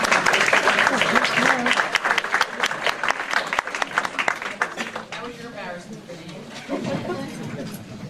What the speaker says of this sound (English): everyone want to give a round of applause